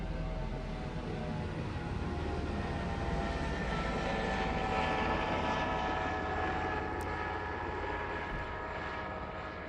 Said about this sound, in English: I think there's a plane going by.